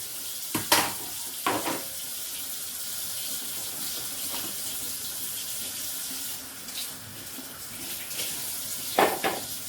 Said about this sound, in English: I'm just rinsing my produce that I have left off.